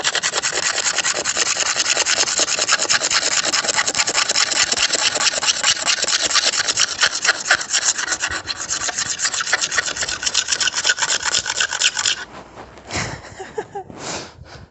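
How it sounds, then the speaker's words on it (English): A steel blade scrapes old finish off wood in fast, repeated back-and-forth rasping strokes, loud and close, with a faint engine-like hum beneath; the strokes end abruptly near the finish, leaving a few scattered scrapes. "just back and forth, scrape, scrape, scrape, and get as much off as we can with the blade"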